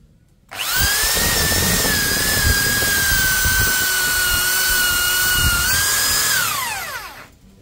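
A loud DCK electric drill whirs at steady pitch for about six seconds, grinding as it bores with a 10 mm bit, then winds down quickly.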